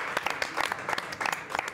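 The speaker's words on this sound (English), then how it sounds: "Always got to be the last person clapping." A short burst of applause rises around a poker table, several people clapping fast and irregularly at close range for under two seconds.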